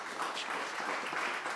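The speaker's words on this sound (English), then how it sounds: "So can you please give a round of applause for Natalie?" An audience at a school anniversary gathering applauds for Natalie, with steady mid-distance clapping from a crowd, faint and continuous through the short stretch.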